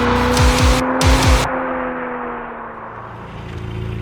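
A Porsche 718 Spyder's six-cylinder engine roars nearby with sharp rising rev sweeps early on, then drops into a steady, fading drone.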